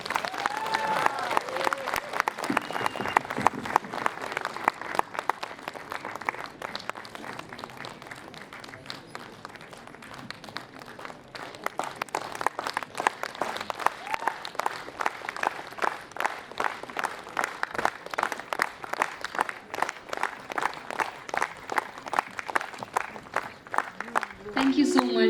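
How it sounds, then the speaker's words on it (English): Sustained audience applause for freshers at a students' union freshers' meet, many hands clapping in a dense patter that dips midway then swells again, fairly distant and even. "A big round of applause, please."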